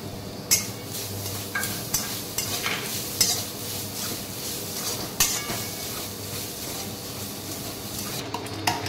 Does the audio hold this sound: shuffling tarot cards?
no